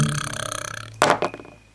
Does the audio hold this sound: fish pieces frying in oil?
no